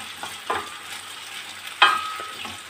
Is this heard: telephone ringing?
no